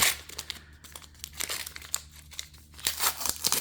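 Foil trading card booster packs from a case of Outsiders are torn open by hand, giving repeated loud crinkling and ripping bursts of foil wrapper, close up and continuous with no talk.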